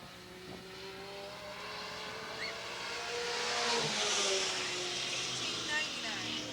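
Race cars lapping an oval speedway track at a 1989 Eugene Speedway event, engine roar swelling and fading as cars pass, a steady loud drone with a louder pass in the middle.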